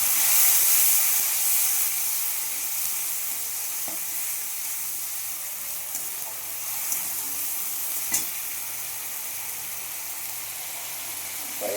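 Tomato tipped into a pan of potatoes and peas for aloo dum, frying with a steady close sizzle and hiss, occasional stirring scrapes and soft clinks, no voices.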